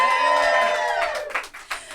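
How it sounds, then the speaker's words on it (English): Live audience at a Pittsburgh podcast recording cheers, whoops and claps for about two seconds, loud and close at first, then breaking into scattered shouts as it fades. "We are in front of a live crowd."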